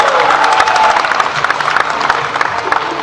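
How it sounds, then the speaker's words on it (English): Audience at a Fear Factor Live show applauds and cheers for a contestant, dense steady clapping with crowd voices and whoops, fairly loud and continuous, with a brief tonal whistle-like line early on. "Another big round of applause for Kimberly,"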